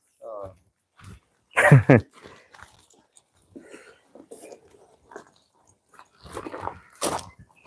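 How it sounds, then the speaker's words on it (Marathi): A dog barks and whimpers in short bursts close by, mixed with people talking. "गेट लावा, कुत्रे जाते."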